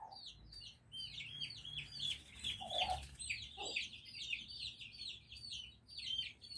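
Hen clucking softly at the roost while her chicks climb up beside her, with a constant chorus of high, rapid peeping from the chicks and a few low clucks mixed in.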